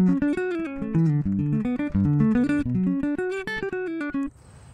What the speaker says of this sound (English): it's a Tim Henson piezo simulator, which sounds like this